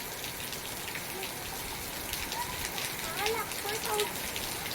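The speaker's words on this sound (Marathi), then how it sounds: "वरती चढल्यामुळे जास्त पाऊस लागत नाही या खाली" Rain falls outdoors as a steady, fairly faint hiss of drops, with a few brief higher tones near the end and no clear speech.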